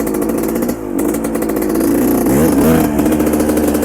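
A small dirt bike ridden off-road over easy terrain, its engine loud and close, with a brief dip in throttle before revving back up and holding a steady, rattling drone.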